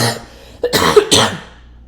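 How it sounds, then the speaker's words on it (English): Two sharp, close coughs about half a second apart after a short quiet stretch, with no talking. "Honestly, I apologize for the cough."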